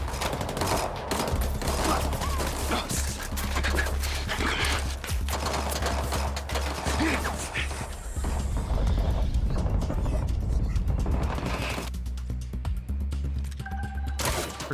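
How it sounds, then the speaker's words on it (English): Rapid bursts of gunfire in the video game Mindseye rattle almost continuously, loud and close, over a steady low rumble with other game sounds mixed in. "Rigby, I've been spotted. I'm taking fire"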